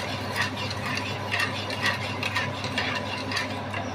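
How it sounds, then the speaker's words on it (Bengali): Raw mango chutney stirred in a pan, with continuous close bubbling and sizzling and regular scraping strokes of the spoon, steady and moderately loud without talk. "নাড়বো এই সময়"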